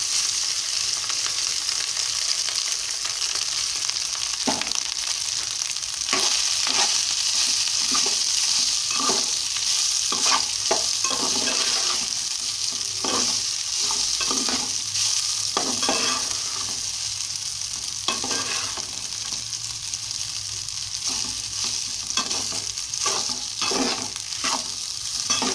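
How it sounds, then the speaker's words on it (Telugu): Rice stir-fried in a hot pan gives a loud continuous sizzle, broken by frequent scraping and tossing strokes of a spatula at an uneven rhythm, close up with no voices. "ఇప్పుడు రైస్ వేసేస్తున్నానండి."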